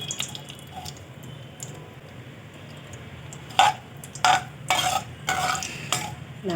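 Mustard seeds splutter and pop in hot oil in a pan, a quiet fizzing bed at first, then several sharp crackling bursts in the second half, close by.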